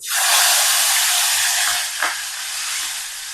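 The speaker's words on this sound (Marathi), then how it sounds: "आता आपलं तेल गरम झालं आणि मच्छी फ्राय करून घेऊ" Fish sizzle loudly in hot oil, a steady, close, hissing fry with no voices over it.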